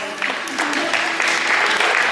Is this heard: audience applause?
yes